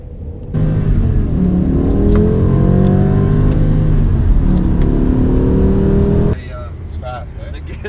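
BMW G20 3 Series car, a 2019 model, accelerating hard with rising and falling engine revs and gear changes, loud and close for about six seconds before it cuts to quieter ambient sound.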